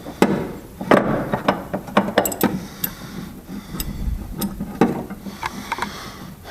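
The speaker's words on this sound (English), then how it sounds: "Let me get my don't buy cheap ratchets" A ratchet wrench clicks in quick irregular bursts during a carburetor rebuild, sharp close ticks and pawl clatter with small metallic knocks between them, no talking.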